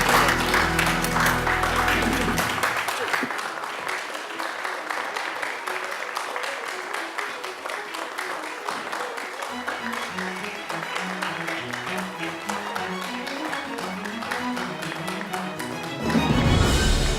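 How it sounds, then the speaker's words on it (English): Applause for both teams after a close scholastic bowl match, a roomful of clapping that runs steadily for most of the stretch, with music-like tones underneath and louder sound at the start and finish. "Let's have a round of applause for both teams."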